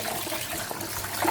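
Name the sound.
washing rice in water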